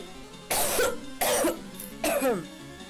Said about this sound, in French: ça vous fait des blancs du coup quand je tousse